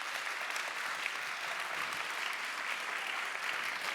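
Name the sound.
audience applause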